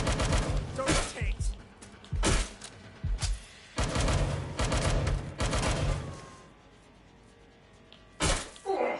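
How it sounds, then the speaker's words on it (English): Bursts of gunfire from the Watch Dogs Legion video game, several loud clusters of rapid shots separated by short pauses, with voices talking over parts of the exchange. "Target is firing!"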